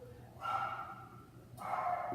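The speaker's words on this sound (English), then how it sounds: "My dogs are barking." Two drawn-out bursts of barking from pet dogs, heard in quick succession at moderate distance over a low indoor hum.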